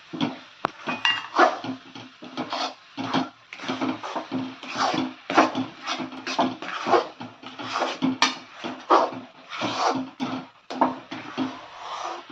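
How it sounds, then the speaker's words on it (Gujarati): Grated coconut and milk powder are stirred together in a pan, giving a close, steady run of rhythmic scraping strokes with light metallic clinks against the pan. "હવે બરાબર મિક્સ કરી દઈશું"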